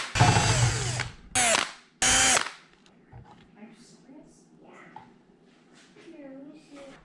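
A power drill zips out gearbox screws on a KitchenAid Professional 600 stand mixer in three loud, close whirring bursts, followed by quieter handling clicks and a voice speaking.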